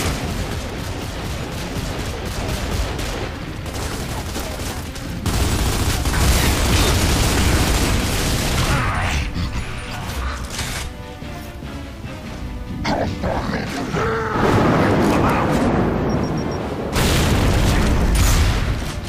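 In Gears of War 2, a security turret unloads on Locust enemies in a sustained, loud barrage of booming gunfire and blasts that surges and swells throughout, dense and close.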